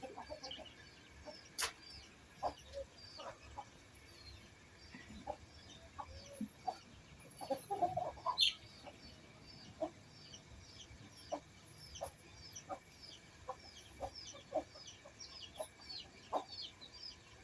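Scattered soft clucks from a hen with four chicks, close by, over quiet outdoor ambience with a few faint bird calls.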